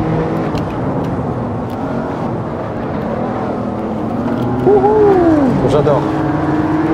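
Audi RS6 engine in the racing game Assetto Corsa, played in VR: a continuous loud drone, with a rising and falling whine near the end as the car accelerates, and a brief voice speaking.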